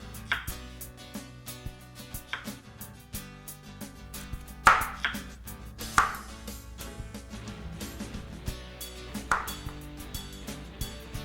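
Scraped carrots are chopped into large pieces with a knife on a board, producing a series of sharp, irregular close knocks with small ringing clinks between cuts.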